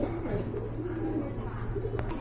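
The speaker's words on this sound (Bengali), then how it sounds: "এখানে দেখতে পাচ্ছেন আরেক জোড়া কবুতর রয়েছে" Caged racing pigeons coo in low, soft, repeated throaty calls, close by and steady, with a brief fainter chirp mixed in.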